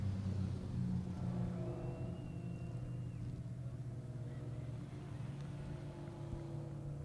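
Blue BMW number 69 racing on an oval track in a heavy metals class, a steady low engine drone heard from a distance, with faint voices in the background.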